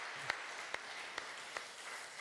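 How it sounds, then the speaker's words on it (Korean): A church congregation claps for the orchestra, a faint, sparse round of applause with a few distinct claps standing out at a steady pace over a soft background. "우리 다시 한번 오케스트라 박수로 하나님께 영광 돌리며 격려하겠습니다"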